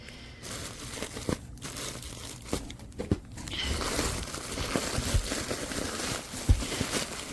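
Crinkling, tearing plastic as a taped and tied bag is worked open, with uneven rustles and rips running close and steady, growing busier in the second half.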